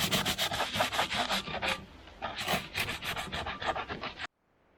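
A cleaning pad scrubs the sealing surface of a 4.3 throttle body going onto a 1991 GMC, making rapid, close, rhythmic rasping strokes in two bursts that stop abruptly near the end.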